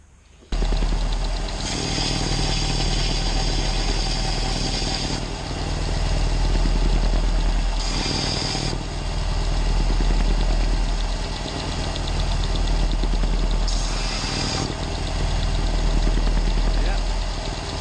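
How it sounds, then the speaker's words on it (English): Belt sander running on a small cut-off metal tag, a loud steady motor whir with a few short surges in pitch as the piece presses against the belt. "I'm just going to put on the belt sander to get that perfectly flat"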